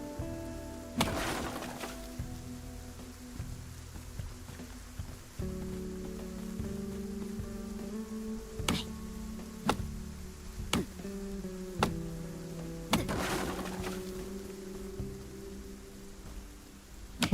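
Rain falling in the video game Undawn, a steady soft patter on surfaces that runs throughout, with sharper drop ticks and a couple of louder bursts over a low game music bed.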